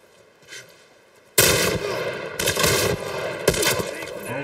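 Loud gunshots in The Last of Us on PC: a sudden blast after a near-quiet opening, then several more heavy reports in quick succession, each followed by a brief rumbling tail.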